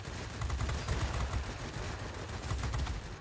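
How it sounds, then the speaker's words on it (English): Dense flak bursts of anti-aircraft fire crackle in the World of Warplanes air-combat game, a continuous low rumbling barrage of overlapping thuds and pops around a Bf 110 E heavy fighter, moderately loud with no talk. "we're taking a lot of flak"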